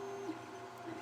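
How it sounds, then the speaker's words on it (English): A 3D printer runs steadily in the background, its stepper motors whirring with a sustained tonal hum that shifts pitch briefly as the print head changes direction, moderately loud and continuous with no voices. "if you hear some noise in the background, it's because I have a 3D printer going."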